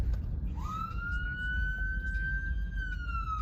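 An ambulance siren sounds close and loud, holding a steady wailing tone for a few seconds before dipping at the end as it passes, over a low traffic rumble.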